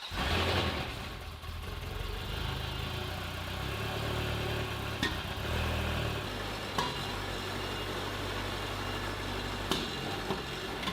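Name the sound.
Ferrari 360 Spider engine running and being revved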